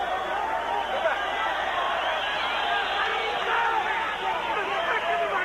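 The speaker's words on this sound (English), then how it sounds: "Here the crowd halfway through this round wanting something to happen with the whistles." A boxing arena crowd whistles and murmurs mid-round at a 1994 fight, a dense, continuous wash of shrill whistles over crowd noise, loud and sustained.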